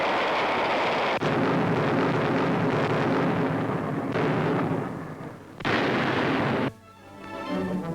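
Artillery and gunfire roar during a WWII beach landing under German attack, dense continuous rumbling blasts and bursts that cut off abruptly near the end, with no speech.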